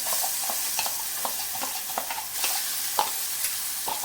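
Spice paste stirred into hot oil with bloomed asafoetida over a low flame: steady soft sizzle broken by repeated scraping stir strokes, close and clear, with no voices.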